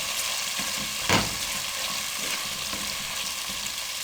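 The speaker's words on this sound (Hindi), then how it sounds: "मीडियम फ्लेम पे 2 से 3 मिनट हम इनकी अच्छे से भुनाई कर लेंगे" Boiled radish pods (mungre) fry in masala in a pan over a medium flame, giving a steady close sizzle with one brief louder stir-scrape near the start.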